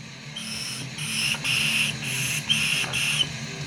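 A Mario Grandi tobacco pipe whistles as smoke is drawn through it: about six close, airy whistling pulses in a steady rhythm, each lasting under half a second, separated by brief gaps.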